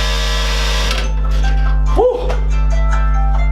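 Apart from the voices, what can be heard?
wake-up alarm going off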